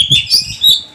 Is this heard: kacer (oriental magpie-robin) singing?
yes